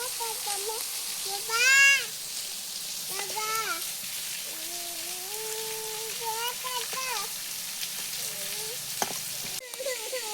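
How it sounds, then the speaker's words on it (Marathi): Marinated clams and fried onion sizzling steadily in a pan over an outdoor fire, a soft, continuous frying hiss with someone talking over it. "कांदा तळून झालाय आता हे मॅरिनेट पण झालंय आता हे टाकून घेते"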